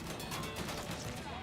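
Continuous gunfire in the video game Mafia 3, a dense, loud barrage of overlapping shots filling the whole moment.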